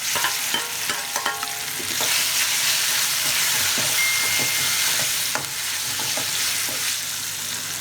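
Brinjal pieces dropped into hot oil in a pan, a loud broad sizzle with clattering stirring strokes near the start, then a steady close frying hiss with occasional scrapes, no voices.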